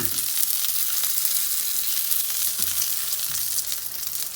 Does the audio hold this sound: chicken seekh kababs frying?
yes